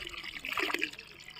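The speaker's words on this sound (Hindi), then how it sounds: "अच्छा भी लगता है ड्रम में पानी भरना, बस खड़े होकर" Tap water pours into a drum on a sunny rooftop, a steady close splashing trickle with no speech.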